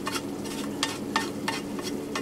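Fresh pear goes into a pot of walnut risotto already fried in butter, cooked in a camper van kitchen: a soft steady sizzle broken by several sharp spoon scrapes and clatters against the pot.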